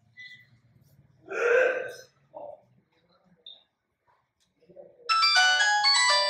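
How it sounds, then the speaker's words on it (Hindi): After a few faint noises and a brief voice, a mobile phone ringtone starts near the end, a bright electronic melody ringing loudly. "रीडायल करने से आप देखेंगे इस मोबाइल में अभी घंटी"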